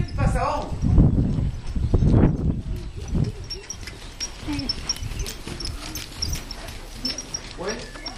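Horses walking past in the distance, their hooves making a light, steady clip-clop under someone speaking loudly at first, then continuing faintly on their own.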